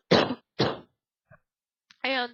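A person coughs in two sharp, loud bursts close to the mic, followed by a faint small sound and then a brief voiced tone.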